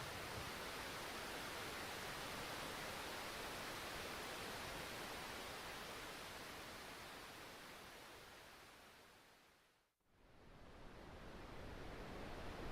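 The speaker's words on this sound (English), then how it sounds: "There's white noise." Continuous broadband hiss plays as a white-noise sample, steady and loud, slowly fading out before snapping back in at full level.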